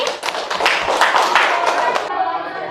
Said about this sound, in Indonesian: Beri aplaus untuk kelompok ini